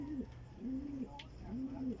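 A racing pigeon coos three times in a soft, rolling rhythm, close by and fairly quiet against a low ambient hum.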